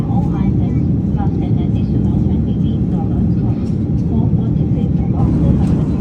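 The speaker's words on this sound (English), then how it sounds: "We are flying above the clouds now, and still we are flying above the Japan." Steady airliner cabin roar during cruise above the clouds over Japan, a loud, constant low rumble and hiss throughout with no breaks.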